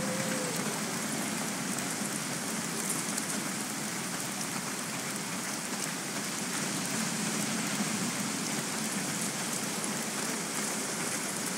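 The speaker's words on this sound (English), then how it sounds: "Well, not if it's pissing down rain." Heavy rain pours down steadily in the Days Gone video game, a dense, even hiss of drops on surfaces that continues unbroken and fairly close, with no voices over it.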